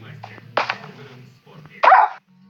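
A dog barks a couple of times close by near a BelAZ dump truck, with a low engine rumble underneath and someone speaking between the barks.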